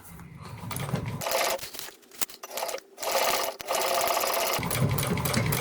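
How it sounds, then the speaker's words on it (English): Sewing machine running close up while top stitching a seam on a handmade Celine-style bag, a loud steady whirring stitch in several bursts with brief pauses between runs. "let's go ahead and make our first line of top stitching."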